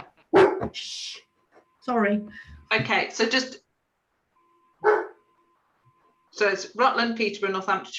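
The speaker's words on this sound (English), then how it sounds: "Apologies, that's my dog." A household dog barks in the background during an online meeting, short sharp barks spaced between a person's spoken sentences.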